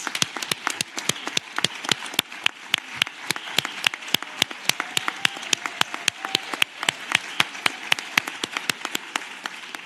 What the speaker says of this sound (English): I would like to please give him a round of applause.